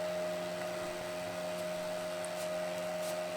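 A homemade inverter runs with a steady low electrical hum and a faint high whine, continuous and unchanging at close range with no talking.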